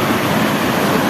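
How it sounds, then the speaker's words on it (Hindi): The Sharda river rushes over a small waterfall in a steady, loud, broadband roar, close and continuous with no voices over it. "पानी की आवाज़ ना बहुत ज़्यादा गूंज रही है।"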